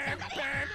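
A single drawn-out cartoon duck quack, loud and close, in an SMG4 cartoon.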